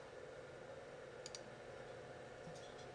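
Faint clicking of computer keyboard keys, a couple of quick taps over a steady low hum, very quiet and close.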